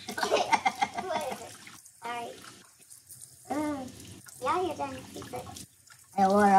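Running water from a tap splashes in bursts while hair is rinsed in a sink or tub, broken by short pauses, with people talking over and between the water sounds.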